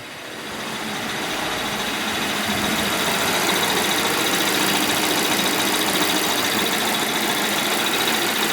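A rebuilt Volvo XC90 B4204T35 four-cylinder engine idles cold, a loud, steady mechanical hum with ticking and faint knocking that swells in the first second and then holds even throughout.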